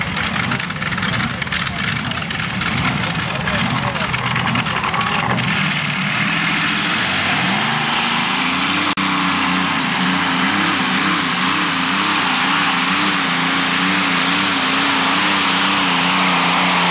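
A tractor-pulling competition engine at an outdoor pull in Verl, Germany, roars continuously, easing off the throttle and then building again, with a German commentator speaking over the loud, steady drone.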